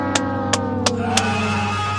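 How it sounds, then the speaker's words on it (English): A Toyota Corolla Cross GR Sport accelerates hard with a steady droning engine note, broken by four sharp bursts of tyre chirp from wheel spin, heard from inside the cabin. "Bit of wheel spin."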